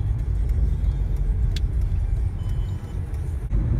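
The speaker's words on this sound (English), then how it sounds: "I have a Porsche Panamera S next to me. Looks good. Yeah, the signal taking a U-turn. The Porsche is going." A Porsche Panamera S pulls away nearby, a steady low engine rumble and road noise filling the scene without a break, heard from close by and fairly loud, no speech.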